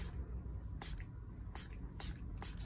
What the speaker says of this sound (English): it's too dry, so I need to spray that